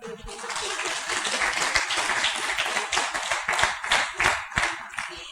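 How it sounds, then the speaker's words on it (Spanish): A church congregation claps for a boy during a sermon, brisk hand clapping that swells and then thins into scattered claps, with voices faintly underneath. "Le damos un aplauso a Lucas"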